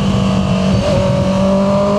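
A Honda CB650R motorcycle fitted with an E-Clutch downshifts, giving a short, loud engine note with a rising rev blip partway through.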